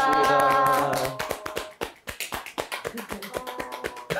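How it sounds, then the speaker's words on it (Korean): A few people clap at the end of an art production's critique session, sharp distinct claps in an uneven rhythm, close by, following a brief stretch of voices and tones. "박수 치고 있어"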